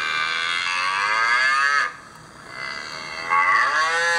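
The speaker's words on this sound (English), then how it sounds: "I have the cows mooing." A cow's long, drawn-out moo rings out loud and close, twice, with a short lull between, playing as a custom phone ringtone on its own.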